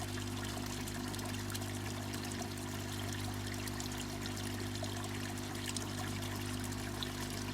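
Water flows steadily from a koi pond filter running at full flow, a continuous trickling and splashing over a constant low pump hum, faint and unchanging, with no one speaking.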